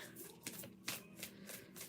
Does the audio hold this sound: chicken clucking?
no